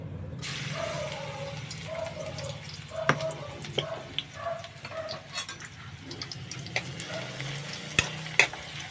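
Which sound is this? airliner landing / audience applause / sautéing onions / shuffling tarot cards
sautéing onions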